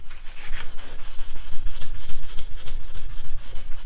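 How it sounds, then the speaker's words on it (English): Cloth wiping excess finish off a wooden desk, a close, loud run of rhythmic rubbing strokes, roughly eight to ten quick back-and-forth swipes with a dry scratchy texture. "So I'll just wipe this off a little bit more"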